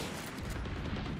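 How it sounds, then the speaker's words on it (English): Shotgun fire in the tactical shooter Valorant: a dense, loud burst of gunfire filling the whole moment with no pause, heavy low boom under crackling blasts. "Shotgun."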